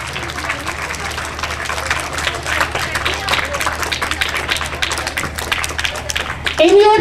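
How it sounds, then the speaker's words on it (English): An audience at a 2021 speech competition applauds the participants with dense, sustained clapping throughout. A voice rises briefly near the end. "do thunder of claps for them"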